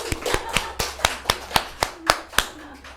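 A church congregation claps in a steady, even rhythm: about a dozen crisp, sharp claps spaced evenly at a brisk tempo, close and clear, with no voices over them.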